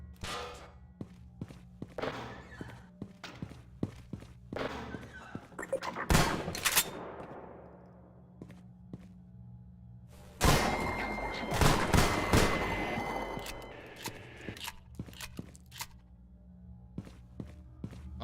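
An autocannon fires in a video game, with bursts of sharp, rapid shots separated by lulls, among scattered impacts and thuds and a booming stretch of heavy sustained fire.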